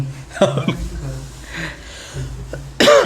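A few short coughs burst out close by, followed near the end by a louder throat-clearing cough, with quiet room noise in between.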